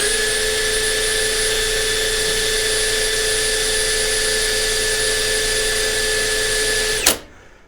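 A cordless drill running free with no load on a fully charged 1.5 amp hour battery, a loud steady high whine for about seven seconds, then cutting off abruptly and spinning down.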